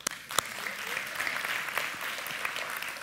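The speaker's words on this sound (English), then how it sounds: "Give me a round of applause." Audience applause after a request for a round of applause, a dense sustained patter of many hands clapping at moderate loudness for the full stretch, with a few sharper claps near the start.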